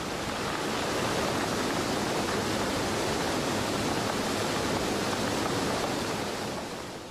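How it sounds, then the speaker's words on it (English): Rushing river water pouring through a notch as a new waterfall forms after the Marmot Dam removal, a loud, steady broadband roar that holds constant throughout with no voices. "The notch becomes a full-fledged waterfall."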